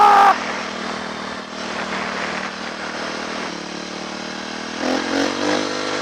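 A dirt bike engine with a leaking header pipe runs at a steady, droning idle, close and fairly loud, then swells briefly in a small rev near the end.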